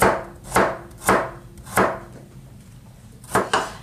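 A knife chops vegetables on the diagonal against a cutting board, six crisp, evenly spaced knocks landing roughly every half second, close and clear with no talking.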